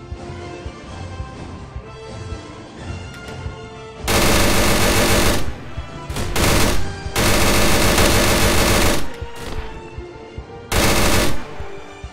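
Video game gunfire rips out in loud sustained automatic bursts, with a long stretch of continuous fire in the middle and a shorter burst near the end, after quieter game sounds.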